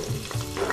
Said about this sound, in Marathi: त्याला लसूण मस्त सॅचे करूया.